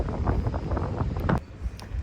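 Gusty wind in Portugal rumbles and buffets the microphone, uneven and fairly loud, with a few brief clicks near the end.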